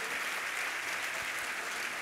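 Steady audience applause at a live Hindi film-music concert by a musical group, dense and even throughout, faint and distant-sounding, with no voices over it.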